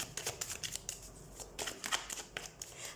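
Tarot cards shuffled by hand during a reading, quick riffling bursts of papery flicks in short uneven clusters, close and fairly soft, with no talk over them.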